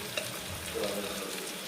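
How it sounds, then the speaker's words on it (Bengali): Onions frying in a pan to go with fish on a home kitchen stove, giving a steady soft sizzle throughout that stays low and constant with no voices. "এই লোটে মাছের জন্য হচ্ছে এখন পেঁয়াজ টিয়াজ ভাজা।"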